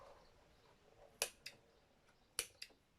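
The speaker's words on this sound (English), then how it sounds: "Can now cut these threads." Scissors snip embroidery threads after a free-motion embroidery lock stitch, giving two sharp snips each followed by a smaller click, close and crisp against a quiet background.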